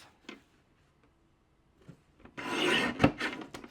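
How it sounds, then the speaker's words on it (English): A paper trimmer slices through a neatly stacked pile of paper sheets in one short, close rasping cut, preceded by a few faint taps and shuffles in an otherwise quiet room. "I'm going to stack them neatly together and trim them at the same time at 6 1/4."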